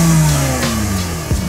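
A 2007 car bought for $800 with its engine running, a loud close idle whose pitch slides down steadily, with a brief blip of revs near the end.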